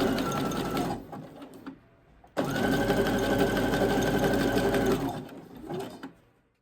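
A sewing machine runs in two long bursts with a brief pause between them, stitching patches onto fabric with a zigzag stitch. The whirring motor is close and steady, with a rapid needle rattle.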